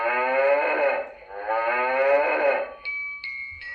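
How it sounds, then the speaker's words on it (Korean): A cow moos twice in long, loud, drawn-out calls, followed by a few brief electronic chime tones as from a children's animal sound book. "음메 풀을 먹고 있어요."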